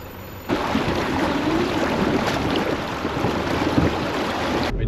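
A vehicle fords a creek crossing at Booloumba Creek, with steady broadband water rush and splashing under wind buffeting on the microphone, continuous and fairly loud after a quieter start.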